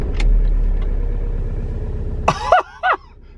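An Alfa Romeo Giulietta engine idles with a low, even rumble, then revs briefly in a few quick rising bursts before dropping back, close and moderately loud, with no talk.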